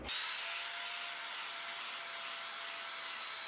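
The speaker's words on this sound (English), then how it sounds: "I'm now going to use this nylon brush, which will go down and do a final cleanup and get rid of a lot of these soft fibers" A nylon brush spins on a power tool to clean soft fibres from new wood, leaving ridged grain. It starts abruptly and holds a steady, loud whirring rasp with a faint high whine from start to finish.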